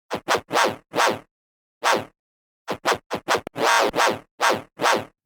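An unprocessed Serum wavetable synth, FM'd by a synced saw wave through a high peak filter, fires short bright buzzy stabs in an uneven rhythm, loud and alone with sharp gaps between hits.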